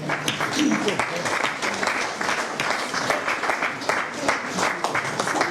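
A church congregation applauds with a steady, moderately loud patter of many hands, mixed with scattered voices and cheers.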